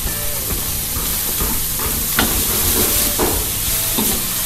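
Chayote sautéing in a hot pan for sambal goreng, a loud continuous sizzle and hiss with occasional stirring scrapes, close and steady throughout.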